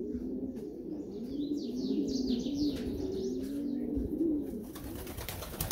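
Pigeons cooing close by in a loft, a steady run of low, rolling coos with a few faint higher chirps over them, and no talk.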